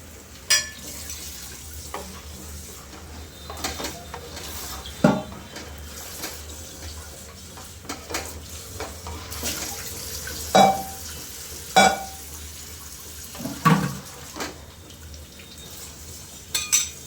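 Water poured into a homemade panipuri mix and stirred in a home kitchen, with soft liquid swirling, scraping clinks and a few sharper knocks of the spoon against the vessel spread across the stretch, no talk.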